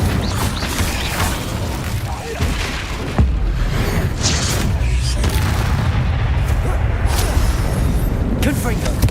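Spell explosions in the video game Hogwarts Legacy, deep booming blasts over a constant dense battle soundscape, with a sharp impact near the middle and loud rumbling throughout; a voice shouts over the effects.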